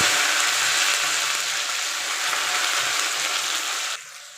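Chopped onions fry in hot oil with a loud, even hiss that holds steady, then drops off sharply just before the end.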